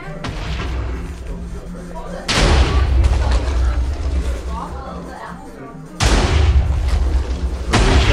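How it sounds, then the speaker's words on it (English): Repeated explosions go off in a Minecraft tournament match, deep booming blasts at intervals of a few seconds, each with a loud onset and a rumbling decay, while a commentator talks throughout. "Adrian is exploding everything that he can."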